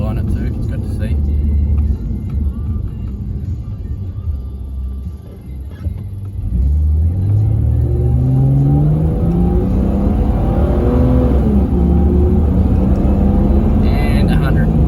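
A Ford Falcon accelerates hard on a damp road with a loud interior rumble, then engine pitch climbing steadily through the gears in rising sweeps, the drone continuous for the whole stretch.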